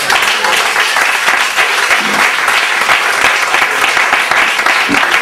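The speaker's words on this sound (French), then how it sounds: "Est-ce qu'on peut acclamer le Seigneur?" A church congregation claps and cheers to acclaim the Lord, with dense, loud applause that holds steady throughout.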